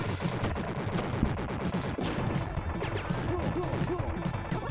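Shotgun fire in the SNES game Wild Guns, rapid repeated blasts and impacts layered with game effects and music in a dense, loud stream.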